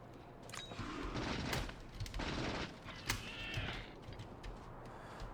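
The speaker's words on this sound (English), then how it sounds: "I'm just gonna walk up and shoot him." Gunshots from a player firing at an enemy in Factorio, a few sharp bursts spread over several seconds against steady game machinery hum and ambience.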